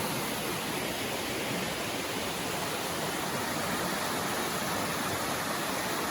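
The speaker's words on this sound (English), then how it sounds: "this is crossing Forney Creek where Bear Creek comes in." Forney Creek flowing where Bear Creek joins it in the Great Smoky Mountains, a steady broadband rush of moving water, constant and fairly close, with no voices.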